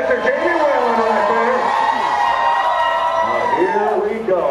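Spectators at a lumberjack show on a Celebrity Infinity Alaska cruise keep up a loud, continuous wall of cheering and whooping, with a voice speaking over the noise.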